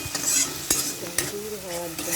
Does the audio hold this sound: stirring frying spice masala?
yes